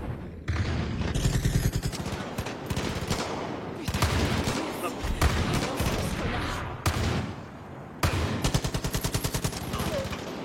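Shotgun gunfire in the video game Far Cry 5, a rapid series of loud blasts and bursts repeating across the whole stretch, some in quick clusters, with other game noise between shots.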